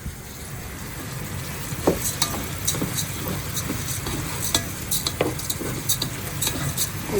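Rice frying in a pan gives a steady close sizzle with occasional sharp scraping clicks from stirring, moderately loud and without voices.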